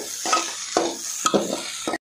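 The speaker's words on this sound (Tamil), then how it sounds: "சாப்பாடு போட்டு நல்லா மிக்ஸ் பண்ணி விட்டுருணும்" Road-side style chicken fried rice with vegetables is stirred in a pan: four rhythmic scraping strokes rise over a steady sizzle, close and clear, with no voices.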